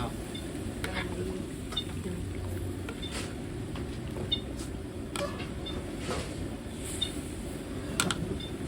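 Shellfish curry sauce made with conch and coconut milk is stirred in a pot, giving a soft, continuous low bubbling and swishing with faint clicks of the utensil.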